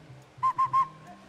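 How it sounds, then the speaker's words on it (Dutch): Referee whistle blown as a start signal at a sports event: three short, sharp, high blasts in quick succession, clear and fairly close against a quiet background. "dan hoor je een fluitje en dan ga je weg"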